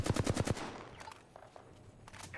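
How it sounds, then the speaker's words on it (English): A quick burst of about five automatic gunshots in Apex Legends, loud and close, followed by fainter scattered shots and impacts farther off. "Someone is firing at us."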